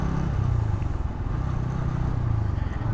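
A Bajaj Pulsar N160 motorcycle engine runs at a steady idle, a low, even, slightly pulsing rumble heard close up throughout with no voices over it.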